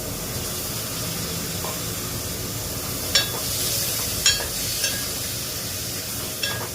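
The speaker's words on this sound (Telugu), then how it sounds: "ఆలుగడ్డ వేస్తున్నానండి." Potatoes frying in a pan for a mushroom, potato and tomato curry, a steady soft sizzle with a few sharp clinks of stirring scattered through, fairly quiet and without talk.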